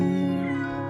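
A single drawn-out, tonal meow, close and loud, lasting just under a second.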